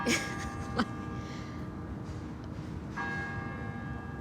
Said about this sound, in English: The bell decides to ring when I start talking.